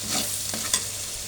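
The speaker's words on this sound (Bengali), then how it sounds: "এই যে টমেটো সসটা দিয়ে দিলাম, দিয়ে ভালো করে একটু নেড়ে কষে নেব।" Tomato sauce fries in a pan with a brief stir. A soft sizzle and hiss runs under a couple of quick scraping strokes. No one speaks.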